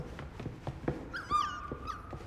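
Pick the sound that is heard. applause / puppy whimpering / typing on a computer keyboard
puppy whimpering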